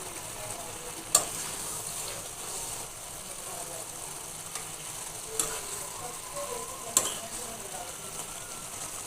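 Rohu fish fries in a pan with banana for a Bengali curry, giving a steady soft sizzle with a few sharp clinks from stirring, quiet and close, with no one talking.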